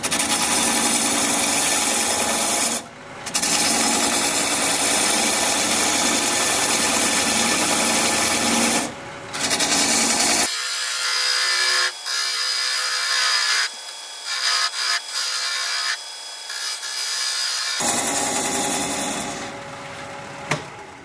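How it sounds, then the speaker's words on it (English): A wood lathe spins near 600 RPM while a 3/8 inch bowl gouge cuts away the tenon on a turned wood bowl, a loud continuous scraping whir broken by short pauses and a quieter stretch midway. "I'm going to grab a 3/8 inch bowl gouge and commence to removing that tenon."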